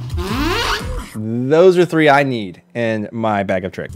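A beatboxer's vocal zipper imitation, a sharp whispered zip with a cough-like attack, opens the clip up close and is followed by talking.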